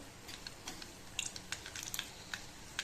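Mustard seeds drop into hot oil in a kadhai and crackle with faint, sparse, sharp pops and ticks over a quiet background hiss.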